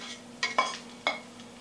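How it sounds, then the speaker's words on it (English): Pan of beef and broccoli stir fry clanking as it is handled and set back onto the stove, three sharp metallic knocks over a steady low kitchen hum. "You want to return the pan to the stove here."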